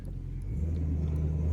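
A 1973 Chevrolet Monte Carlo 350 V8 engine idles with a deep, steady, throaty rumble that swells slightly in the middle, heard up close with no other sounds.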